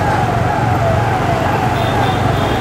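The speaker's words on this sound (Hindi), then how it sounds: "सामने मीरा भाईंदर की मीरा भाईंदर महानगर पालिका की एक एम्बुलेंस जा रही है।" A Mira Bhayandar municipal ambulance siren wails steadily along a road in Mira Bhayandar, loud and continuous over broadband traffic rumble without pause.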